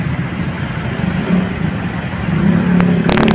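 Traffic moves along a rainy road, with a close car engine rumbling and revving, a steady wash of wet road noise, and brief sharp clicks near the end.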